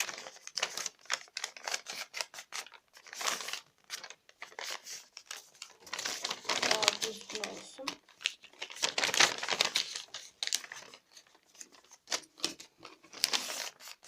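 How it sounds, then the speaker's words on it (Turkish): Cardboard being folded in half while making a paper lantern, a run of crisp crinkling and crunching bursts in uneven rhythm, close and fairly loud, with no talk. "kartonumu ikiye katlıyorum."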